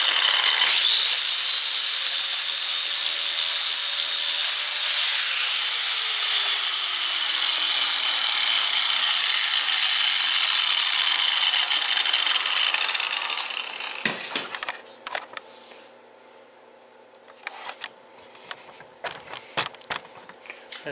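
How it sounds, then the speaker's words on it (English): An angle grinder fitted with a flap disc scours a metal part clean for welding, with a loud, steady, close abrasive whine for about fourteen seconds that shifts in pitch under load. It then spins down, followed by scattered clanks and handling noises. "a flap disc in here and clean this thing up. Just for welding purposes."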